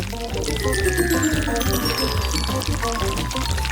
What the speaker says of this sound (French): Et maintenant, je prends la bouteille. Et je verse toute la pâte.